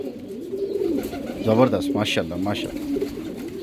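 Prized flying pigeons coo close by, a few rolling, throaty calls rising over background murmur while someone speaks excitedly over them.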